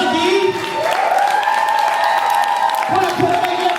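Sustained applause and cheering from a crowd at a women's poetry slam event, loud and continuous, with a brief dip near the three-second mark before it swells again.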